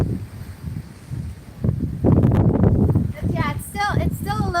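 Gusty wind buffets the microphone in loud, rough bursts while people talk outdoors.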